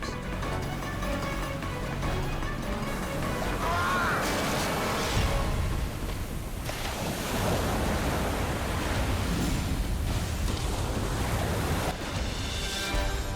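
Surging ocean waves and violent surf around a sailboat roar continuously, with heavy wind buffeting and deep churning water swelling loud throughout.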